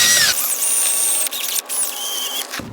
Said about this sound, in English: I got my trusty drill with a Harbor Freight wire brush, and I'm just going to town.